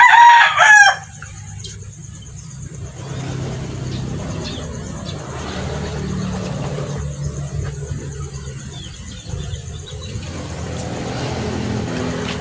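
A rooster, a well-built breeding cock, crows loudly and close at the very start, followed by some clucking over steady background noise with no talking.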